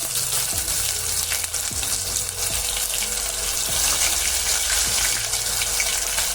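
Ginger garlic paste fries in hot, bubbling peanut oil, browning for a prawn pickle, with a loud continuous sizzle and crackle close up, punctuated by a few low knocks and scrapes of stirring.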